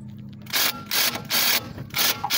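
Socket wrench ratcheting as it loosens a nut on the suspension of a 2012 Chevrolet Malibu, four loud, close bursts of rapid clicking with short pauses between them, no talking.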